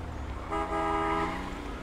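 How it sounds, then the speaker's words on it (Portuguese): A car's lock alarm chirps in the GTA 5 video game, a short tonal beep close by over a steady low rumble. "Alarme, né? Alarme puro."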